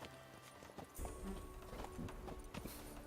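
A horse's hooves clip-clop at a quick, regular pace in The Witcher 3 video game, faint and a little distant, with no talking over them.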